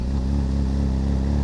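Honda CB1000 Hornet SP motorcycle engine running close by, a loud steady throbbing idle with a deep pulsing rumble and no voices over it.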